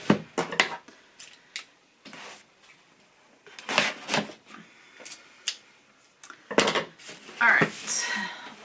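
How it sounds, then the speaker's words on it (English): Scissors snip and slice through packing tape on a cardboard subscription box, a series of close, sharp bursts in irregular clusters separated by brief pauses. "So let me go ahead and cut the tape."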